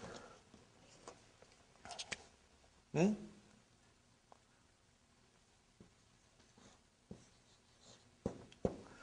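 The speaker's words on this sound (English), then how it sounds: "I will write down, brothers and sisters." Chalk or marker scratches and taps on a board in a quiet classroom, coming in short scattered strokes and clicks, faint and close, with a brief voice sound between them.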